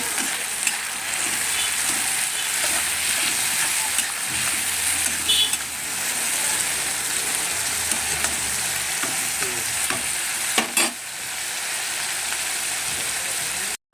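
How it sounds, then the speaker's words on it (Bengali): Prawns fry in hot oil with turmeric in a pan, a constant, bright sizzle, a few clinks and stirring sounds over it, and no voices. "একটু চিংড়ি মাছটাকে ভাজার জন্য একটু হলদি দিয়ে দেবো।"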